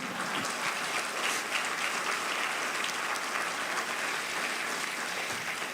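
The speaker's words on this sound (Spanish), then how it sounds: "Yo le daría un fuerte aplauso al Señor Jesús." A church congregation claps in praise, a steady, even wash of many hands heard from a distance with no voices standing out.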